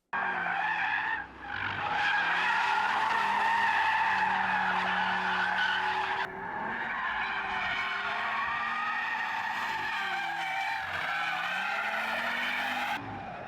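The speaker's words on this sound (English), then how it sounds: "it causes oversteer so you can drift" A 2022 Audi RS3 drifting, its tires skidding and squealing loudly in long sustained bursts with the engine roaring underneath and a brief break partway through.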